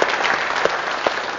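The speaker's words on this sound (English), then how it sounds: "Let's have a round of applause for Team JLT" An audience at a business presentation claps steadily for a brief moment, a dense burst of applause from a room full of people.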